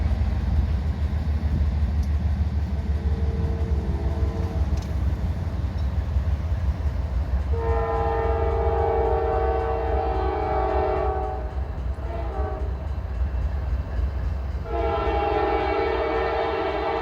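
A northbound intermodal freight train rumbles past close and loud, its multi-tone horn sounding in two long blasts over the continuous roar of the wheels.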